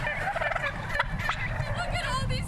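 A large flock of white broad-breasted turkeys, over two hundred birds, gobbles continuously in a dense overlapping chorus of warbling calls, close and loud.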